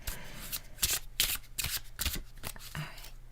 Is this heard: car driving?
no